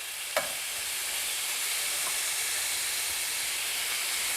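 Beef for a stir fry sizzles in a skillet, a steady loud hiss that holds evenly throughout, with one brief sharp clink near the start.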